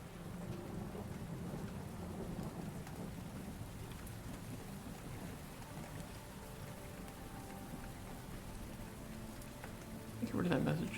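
Video game ambience: steady rain patters throughout with low rumbling thunder underneath, and a brief louder swell near the end; a soft, immersive storm ambience.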